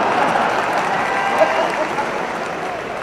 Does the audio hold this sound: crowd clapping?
yes